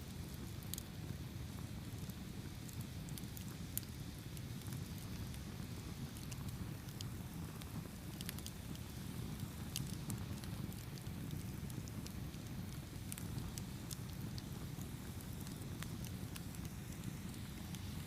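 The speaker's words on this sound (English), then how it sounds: "Focus on the sound of the firewood crackling." Steady soft crackling and popping of burning firewood, with scattered sharp snaps over a low continuous rumble, no voices.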